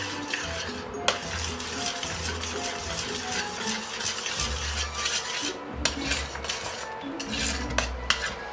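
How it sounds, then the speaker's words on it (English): Cornstarch being stirred quickly into a simmering vegan pie filling in a pot: a steady scraping, bubbling churn with occasional sharp clinks of the spoon against the pan, continuous throughout. "You can see the white cornstarch stirring in, and you really have to stir it in quickly or you could get lumps."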